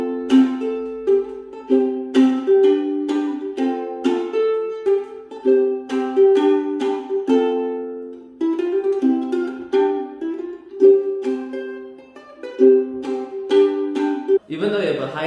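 A bright, plucked high-G soprano ukulele plays a gentle fingerpicked melody with ringing chords, steady and clear, ending with a brief strum.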